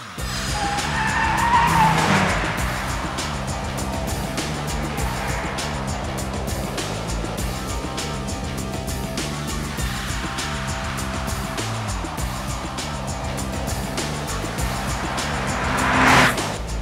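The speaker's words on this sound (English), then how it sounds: "It's the Clio Renault Sport V6." A Renault Clio Sport V6 is driven hard, its engine roaring as the tires squeal and skid in long, loud screeches that rise and fall. The screeches come close repeatedly over about seventeen seconds, with no talk.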